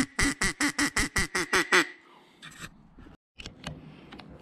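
A mouth-blown hunting call imitating a duck gives a fast run of about nine loud, evenly spaced quacks up close, then a few scattered softer sounds.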